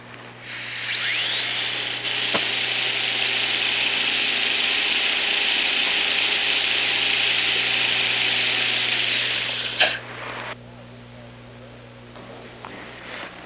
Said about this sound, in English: we're going to use a small round burr to eliminate the nodule, and the nodule only